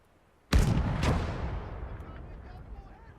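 Gunfire in the WWII game Gates of Hell: Ostfront, Finnish front, with one sharp, heavy shot followed quickly by a second, then a long rumbling echo fading away.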